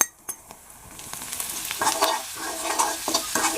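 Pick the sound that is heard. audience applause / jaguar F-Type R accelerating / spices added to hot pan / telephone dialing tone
spices added to hot pan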